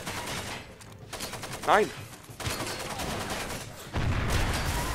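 Enemy gunfire aimed at the player in the open-world shooter Far Cry 2, a few rattling bursts over a vehicle's engine rumble, with someone speaking briefly.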